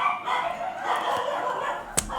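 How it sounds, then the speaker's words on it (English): Dogs bark and yip in the distance, muffled as if outdoors, with a steady background noise and one sharper sound near the end. "Apologize for the barking in advance here"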